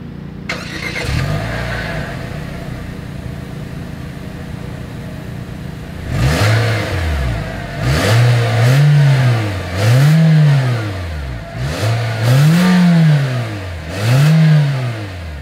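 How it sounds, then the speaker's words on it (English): A 2024 Nissan Versa exhaust revved repeatedly while stationary, the engine rising and falling in five or six loud, evenly spaced blips after a quieter idle, with no talking. "As always, here is that exhaust clip."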